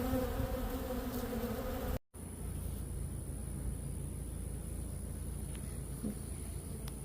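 Honey bees drone in a steady, dense buzz close by at a hive during a nectar dearth after a brief cut, a continuous hum with no voices over it.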